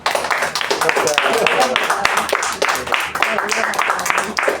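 An audience at a talk on the Battle of Yungay breaks into sustained applause, a dense wash of many hands clapping close and loud, with voices mixed underneath.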